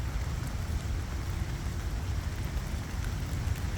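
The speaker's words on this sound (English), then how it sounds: "Just the water coming down off the trees." Steady patter of water dripping from trees in the woods after rain, a soft continuous wash like light rain, with no voices.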